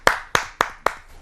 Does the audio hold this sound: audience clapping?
yes